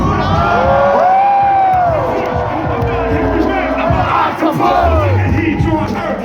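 A loud crowd at a freestyle rap concert at Big Night Live, Boston cheers, whoops and shouts continuously, with voices rising and overlapping in a large, noisy space.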